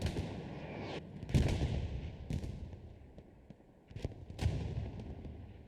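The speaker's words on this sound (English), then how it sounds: "that artillery strike was very accurate" Artillery strike in the World War II shooter Hell Let Loose: a series of booming shell impacts and blasts in quick succession, rolling and echoing through the mix at moderate distance.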